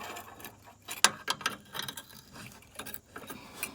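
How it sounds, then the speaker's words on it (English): Quick metallic clicking of a 3/8 ratchet working a front shock bolt on an 88-98 Chevy C1500 truck, irregular close clicks and small clanks with no voices. "I could fit a 3/8 ratchet in there to take it off."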